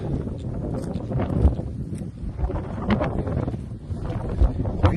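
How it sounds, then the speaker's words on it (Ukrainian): Strong dry wind buffets the microphone in uneven gusts, a constant rough rumble with faint rustling underneath, outdoors in a farm field and without speech. "вітер піднявся, суховій видуває."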